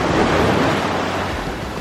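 Ocean surf with a strong current and riptides at Miami Beach, a close, loud, continuous wash of breaking waves with no talk.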